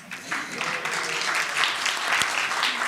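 Audience applause at a Rotary Citizen of the Year ceremony, steady dense clapping that carries through the whole stretch with only faint voices mixed in.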